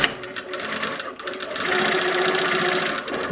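A sewing machine stitches the center front seam of a pair of jeans, a steady close whirring run of needle strokes with a brief pause early on, then continuous stitching to the end.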